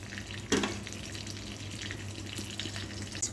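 Panch phoron spices frying in hot oil in a pan during home cooking, with a steady soft sizzle and crackle, a sharper spattering pop near the start, and a faint low hum beneath.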